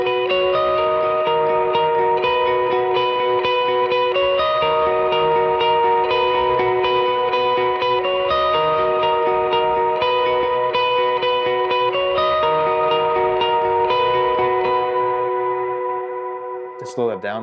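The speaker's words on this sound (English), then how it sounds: "I'm going to add a quarter note delay with some added modulation and pitch effects" Sustained electric guitar chords ring through quarter-note delay, modulation and pitch effects with a lush reverb wash, loud and continuous, played on the middle pickup and fading out at the end.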